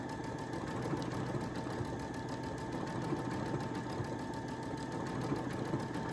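A Brother Essence VM5200 sewing machine stitches a decorative star pattern along a seam line, a quiet, steady mechanical whir with fast, even rhythmic needle clatter running unbroken throughout.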